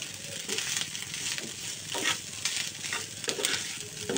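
Rice with vegetables being stir-fried in a pan at home, a steady sizzle broken by repeated scraping stirs of a spatula, close and continuous without talk.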